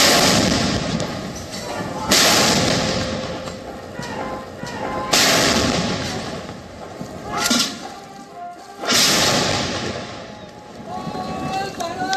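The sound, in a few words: 25-pounder cannon firing at Red Fort ceremony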